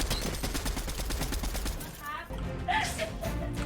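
Rapid automatic gunfire in the video game Fortnite rattles in a fast, steady stream of shots for nearly two seconds, then breaks off into scattered game sounds.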